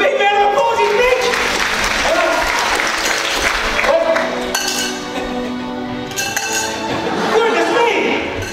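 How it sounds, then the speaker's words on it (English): Audience applause at a live magic show, loud sustained clapping with a brief dip midway, mixed with a voice speaking over it. "Give him a big round of applause, he's rich!"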